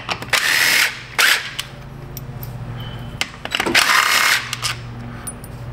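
Ratchet wrench removing bolts from a Yamaha Big Bear 400 ATV, fast rasping clicks in three loud close bursts separated by quieter pauses with faint clinks, no talking.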